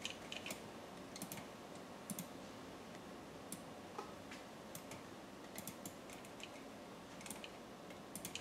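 Steady typing on a computer keyboard, quiet close clicks in irregular bursts of keystrokes across the whole stretch, alone with no talk.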